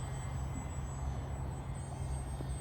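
An RC micro bush plane flies under power, its small electric motor giving a steady, continuous drone at full throttle, fairly close and alone with no voices.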